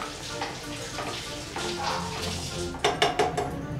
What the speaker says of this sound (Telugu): ఇప్పుడు కొంచెం కలిపి మూత పెట్టి